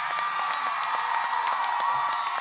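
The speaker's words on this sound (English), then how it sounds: "Please join me in a round of applause." A large crowd at the Jean Ribault Senior High School class of 2021 graduation ceremony cheers, whoops and applauds continuously, a dense, loud, unbroken wash of clapping and shouting.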